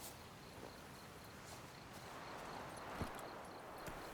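Roach the horse in The Witcher 3 moving at pace, soft rhythmic hoof clops under a steady bed of ambient outdoor noise and insect chirps, faint and distant with no talking.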